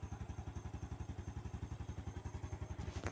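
A motorcycle engine runs at a steady idle, giving an even stream of rapid low thumps at moderate distance with no voices over it.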